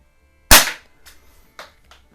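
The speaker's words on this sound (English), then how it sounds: "That's the what you call it, the anvil inside the primer flying around after it comes out of the barrel" A spent large pistol or rifle primer fired from a .22 air gun gives one sharp, loud crack, followed by several faint ticks and rattles as the primer's anvil flies from the barrel and bounces around.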